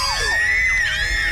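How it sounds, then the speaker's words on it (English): Several cartoon voices shriek in terror at once, a short, loud burst of overlapping, rising and falling screams. "Listen to those screams."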